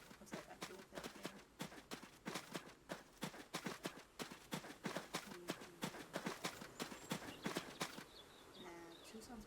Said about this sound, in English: It's just a horse.